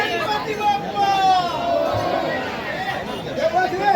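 A dense crowd gathered for a Ganpati immersion procession, murmuring voices blending into a steady babble with brief shouts rising from it, fairly loud and close throughout.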